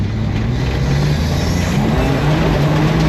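A car rolls over gravel with a steady, close, rumbling crunch of stones under the tyres and an engine drone beneath, continuous throughout.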